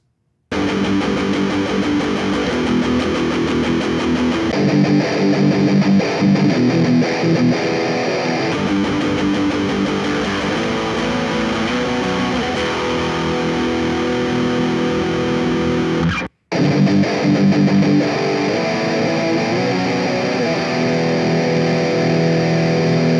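A distorted electric guitar through a BIAS FX emulation of a Peavey Valveking amp with a drive in front, a steady dense stream of crunchy chords and riffs, interrupted by one brief cut.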